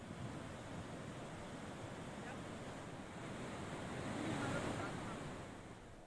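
Water pours through opened dam gates, discharging about 6,700 cusecs during heavy monsoon rain. A steady, broad roar of rushing water swells slightly toward the end, with no voices.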